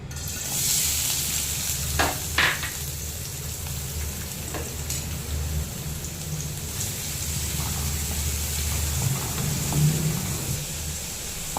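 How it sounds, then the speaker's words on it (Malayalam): Sliced onions sautéing in oil in a kadai, a continuous close sizzle and crackle with occasional spoon scrapes and taps against the pan, no voices. "ഈ കടായിൽ തന്നെ നമുക്ക് കുറച്ചുകൂടി എണ്ണ ഇട്ടിട്ട് നമുക്ക് സവാളയും ഒന്ന് വഴറ്റിയെടുക്കാം"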